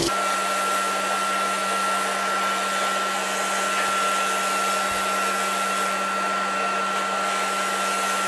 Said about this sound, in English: It does cause quite a lot of smoke, so that's the extractor that you can hear.